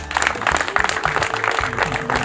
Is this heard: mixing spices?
no